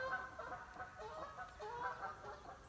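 Birds calling outside near a lakeside camp, a steady chorus of overlapping calls at moderate distance, continuous throughout with no talk.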